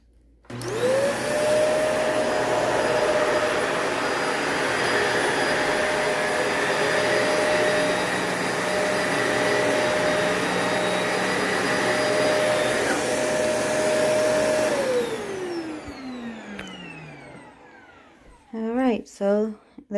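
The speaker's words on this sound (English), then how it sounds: "So I'm gonna vacuum so you can see." A vacuum cleaner runs steadily and loudly over Floorigami carpet tiles for about fifteen seconds, then winds down with a falling whine, followed by a few brief clicks and knocks.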